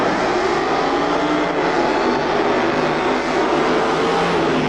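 Supercharged drag racing funny car engine roaring at the Sepang circuit, a loud, continuous blast that holds steady across the whole stretch with no talk.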